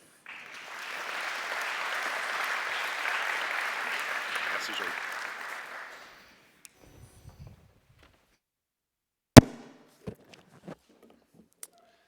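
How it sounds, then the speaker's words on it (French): Audience applause at a security forum following a welcome address, a steady wash of clapping for about six seconds that then stops, leaving silence broken by a few scattered knocks and one sharp bang. "Et nous pouvons l'applaudir."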